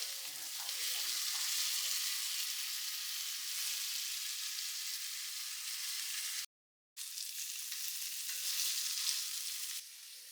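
Chicken pieces frying in a pan give a steady, dense sizzle that fills the clip almost without pause, broken by one brief silent gap, with faint stirring under the hiss.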